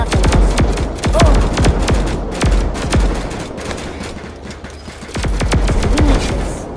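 Rapid gunfire in the Roblox game Flag Wars, dense bursts of repeated shots loud and close, continuing throughout with brief pauses.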